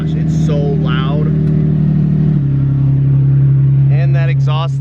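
A Nissan 350Z with a loud exhaust and an exhaust leak drones at a steady idle-to-rev rumble, shifting pitch midway, while people talk over it nearby.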